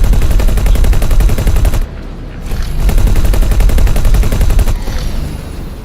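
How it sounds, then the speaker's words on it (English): Weapons fire during space combat in X4: Foundations, a loud rapid train of repeated blasts that dips briefly into a lull, then resumes and fades toward the end. "Whoa, missiles."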